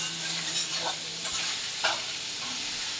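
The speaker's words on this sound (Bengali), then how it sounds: "আলুটা একটু স্টিম কমিয়ে ভেজে নিচ্ছি" Potatoes frying in a pan over lowered heat, a steady close hiss of sizzling oil with a few soft stirring scrapes and no talk.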